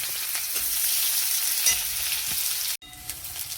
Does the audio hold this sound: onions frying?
yes